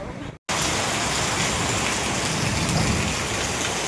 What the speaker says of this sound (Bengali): একদম মুষলধারে বৃষ্টি হচ্ছে, ঝমঝম করে বৃষ্টি পড়ছে